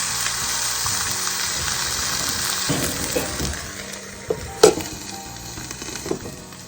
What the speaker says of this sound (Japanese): 蓋をして蒸し焼きにします。